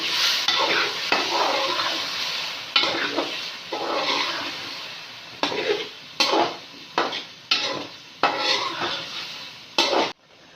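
Peas and potatoes stirred and fried in a cooking pot for pulao, with a steady sizzle under repeated scraping and clinking of a metal spoon against the pot, close and continuous.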